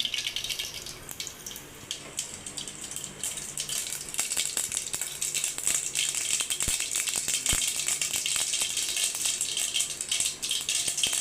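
Mustard seeds sputter and crackle in hot oil in a pan, a dense, steady sizzle with sharp pops scattered throughout, close and fairly loud, at the start of making upma.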